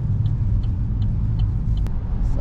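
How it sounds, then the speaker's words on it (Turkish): An Opel Insignia drives at high revs on an icy night road, making a steady low engine and road rumble heard from inside the car. The noise is loud and continuous, with faint clicks and no talking. "Bu şekilde yüksek devirde inebilirsiniz"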